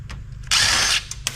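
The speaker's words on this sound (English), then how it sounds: "Unscrew the power supply." A 1/4-inch socket driver buzzes briefly while unscrewing a computer power supply screw during e-waste salvage, a single half-second whir with faint clicks before and after.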